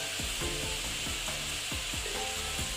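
Potatoes, eggplant and green chilies sizzle steadily in a hot pan, a constant bright frying hiss with occasional soft stirring scrapes and a faint tonal hum beneath.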